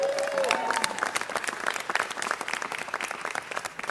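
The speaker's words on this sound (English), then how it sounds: "Give Eli a round of applause." Audience applause at a city council meeting, a dense steady clapping from a roomful of people with a few cheers near the start, close and sustained for the whole few seconds.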